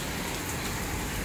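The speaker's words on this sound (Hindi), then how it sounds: "बहुत शदीद बारिश है" Very heavy rain pours down steadily in Depalpur, a dense, loud wash of noise that fills the whole moment with no break.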